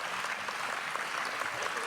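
An audience at a creation-versus-evolution lecture applauds, a steady, even patter of many hands clapping without pause through the short stretch.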